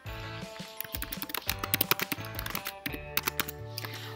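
Rapid, uneven bursts of typing on a computer keyboard while entering a transaction name into real-estate software, with close, crisp key clicks coming in quick clusters separated by short pauses.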